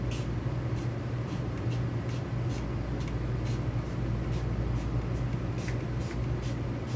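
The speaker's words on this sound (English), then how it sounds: "Let's see if it'll spray right." Aerosol spray paint can spraying onto paper during a craft session, a steady close hiss broken by short repeated bursts of spray at an even, constant loudness.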